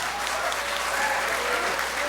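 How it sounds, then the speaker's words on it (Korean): Church congregation applauding a high school student during an Easter service, steady clapping filling the room at moderate loudness for a couple of seconds, with faint voices underneath. "우리 알렉스 박수로 한번 격려해 주세요."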